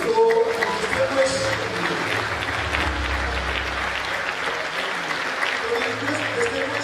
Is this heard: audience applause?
yes